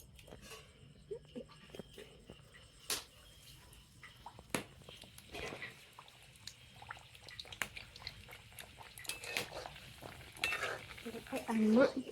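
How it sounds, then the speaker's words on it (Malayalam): Food fries in a pan as a man cooks, with intermittent scraping and clinks of a utensil against metal over a faint sizzle, fairly quiet, with brief murmurs of voice near the end. "ഇവിടെ അച്ഛൻ ഫ്രൈ ചെയ്യുന്നു"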